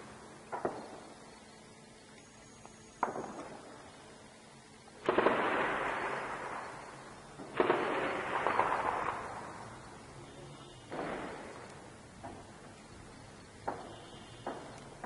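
Shelling in the Bakkajin district of Deir ez-Zor, Syria, arrives as a series of distant, heavy explosions, several booming blasts with rumbling tails and fainter thuds between them, spread irregularly over the span.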